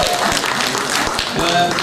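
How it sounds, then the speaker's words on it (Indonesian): A conference audience at a radio industry summit claps in a short burst of applause, heard under and alongside a speaking voice. "Tepuk tangan sekali."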